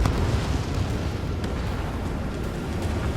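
A missile explodes in the Ace Combat 7 flight game as a loud, continuous, rumbling roar. The blast-like noise fills the whole clip at an even level and has no clear start.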